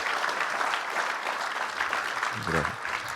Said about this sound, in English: Give a round of applause for dads